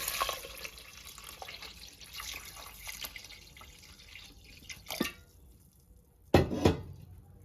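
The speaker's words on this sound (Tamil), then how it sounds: "இந்த கிழங்குக்கு மேலால் தண்ணி விடணும்" Water trickles and splashes quietly into a pot of tubers, with a few sharper splashes and clinks near the end.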